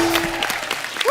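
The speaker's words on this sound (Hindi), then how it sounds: "जोरदार तालियां हो जाए यार" A brief burst of audience applause, dense clapping with a brief tone at the start and a voice breaking in at the end.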